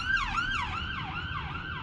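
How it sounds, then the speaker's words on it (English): An ambulance siren wails in rapid up-and-down sweeps as it passes through traffic, fairly close and loud over a low hum of road noise. "Here comes the ambulance."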